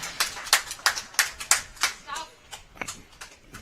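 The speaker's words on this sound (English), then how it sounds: "The crowd's going wild there." Spectators at a lawn bowls championship clap in a short burst of scattered, uneven applause that thins out after a few seconds, with a voice faintly audible underneath.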